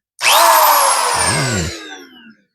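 A Craftsman 1/2 inch drive electric drill whines up to a high steady spin, holds with a brief lower grinding dip midway, then winds down to a stop; loud and close.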